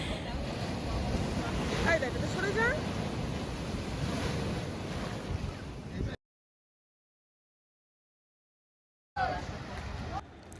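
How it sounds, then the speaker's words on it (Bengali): Sea waves break against rocks along a beach, a steady roaring wash with gusting wind on the microphone, cut off by a stretch of silence before the surf resumes near the end. "এখানটায় ঢেউটা কি সুন্দর লাগছে দেখেছো, পাথরে এসে ধাক্কা খাচ্ছে, এত সুন্দর ঢেউ উঠছে"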